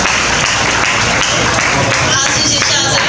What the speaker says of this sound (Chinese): 来掌声欢迎我们的陈立元